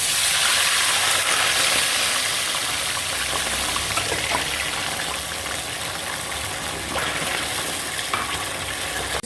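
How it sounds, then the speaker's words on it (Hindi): Two cups of water poured into a hot pan for makhandi halwa syrup, a loud hissing sizzle and gush that slowly settles into steady bubbling, with a few clinks. "तो उसमें हम 2 कप पानी ऐड कर देंगे।"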